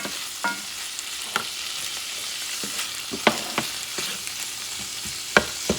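Rice with chorizo, sweet peas and green beans stirred in a frying pan: a steady sizzle runs throughout, broken by a handful of sharp spoon scrapes and clicks against the pan at irregular intervals, close up with no talking.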